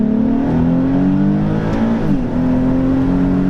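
A Nissan 370Z accelerates hard, its engine note climbing steadily through the gears with a brief dip at a shift, heard from inside the car with no talking.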